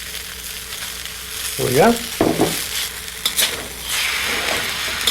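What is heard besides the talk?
vegetables slid into a hot pan for fried rice, sizzling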